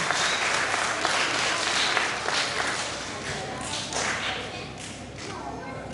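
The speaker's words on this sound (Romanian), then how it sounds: "De aceea să-i aplaudăm și pe cei care astăzi nu au reușit să câștige" Audience at a folk festival contest in Mireşu Mare applauds, a steady wash of dense clapping that holds evenly for several seconds and eases slightly toward the end.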